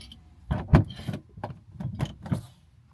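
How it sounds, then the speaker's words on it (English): A bathroom door in an Elddis CV 60 camper van is pulled shut with a series of close, soft knocks and rattles, ending in a few muffled thuds in a cramped space. "And then if I close the door"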